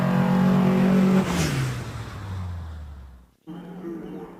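A race car launches at the Shelsley Walsh hill climb, its engine loud and close at first, then the note drops and fades as it pulls away up the hill, with a brief cut and quieter engine sound afterward.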